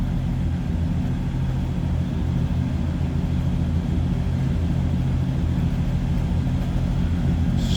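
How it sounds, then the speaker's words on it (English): A 1939 Buick Special Model 46 Business Coupe's straight-eight engine idles steadily from behind the car, a smooth, continuous low rumble with no talk over it. "Straight 8, running pretty smooth"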